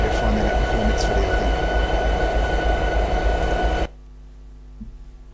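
Diesel locomotive in Train Simulator 2016 runs with a loud, steady rumble and rail clatter for several seconds, then abruptly drops to a quiet low engine hum with a few faint thumps.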